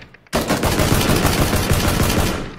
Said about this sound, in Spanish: de hecho están ahí los disparos